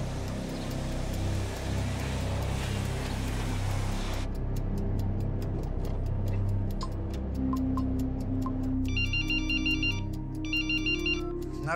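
A telephone ringtone chirps in repeated electronic bursts over a low background hum, the rings coming clearly and alone without talk.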